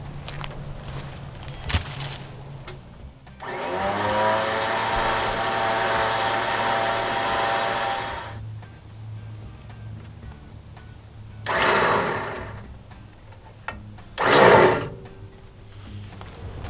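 4WD electric winch spooling rope onto its drum, a rising motor whine that runs steadily for about five seconds, followed by two shorter bursts of winching; close, with faint handling noises between bursts.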